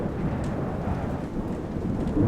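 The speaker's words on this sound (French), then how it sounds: "le bruit du tonnerre, de la pluie battante et des bourrasques est effrayant" A steady roar of pouring rain with gusting wind fills the clip continuously and loudly, with deep rumbling thunder underneath; no voices are heard.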